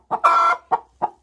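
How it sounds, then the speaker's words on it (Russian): Laying hen clucks close by: a short note, a longer drawn-out squawk, then two more brief clucks, loud and alone. "Курица несет здесь яйцо."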